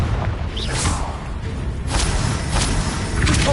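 Confringo blasting spell effects from the video game Hogwarts Legacy: several whooshing bursts and heavy thuds in quick succession, loud and close.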